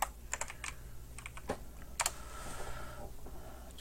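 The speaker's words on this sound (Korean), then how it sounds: "요거 이제 계산기 써보겠습니다." Calculator keys are tapped in a quiet room, a handful of faint, scattered clicks over a low steady hum.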